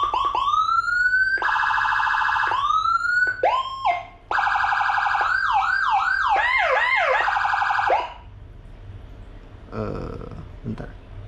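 A Whelen 60-watt siren module through a speaker cycles electronic siren patterns: rising wails, a steady tone, then rapid yelping sweeps, fairly loud. Faint background sounds follow afterward.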